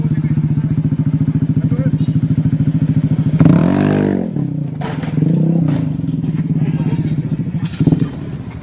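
A motorcycle engine idles with a steady, throbbing rumble, then revs up briefly with a clattering surge before settling back into a chugging idle.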